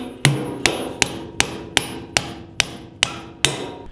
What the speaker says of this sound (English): So when we pound those in, we're not going till it's super tight just yet